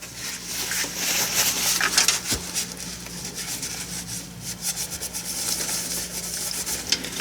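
Old thermal paste being rubbed off an Intel i7-8700 computer CPU: a steady close scrubbing and wiping texture with bursts of dry friction, alone with no talk.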